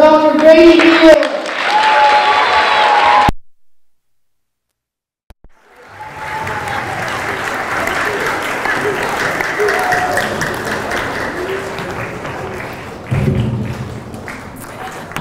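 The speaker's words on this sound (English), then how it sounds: "Please do a huge round of applause for Dr. Brady Beale." Audience applause at a TEDx event at a sixth grade center, loud clapping at the start, a brief silence, then a longer steady wave of clapping and crowd noise that swells again near the end.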